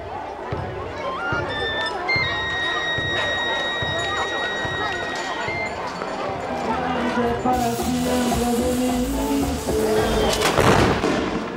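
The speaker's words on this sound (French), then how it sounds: "Les déflagrations de pétards commencent à se succéder à un rythme soutenu" Firecrackers burst in rapid, dense succession at a Maya festival in Guatemala, loud sharp cracks piling on one another over sustained melodic tones, with a heavier, thicker flurry of explosions near the end.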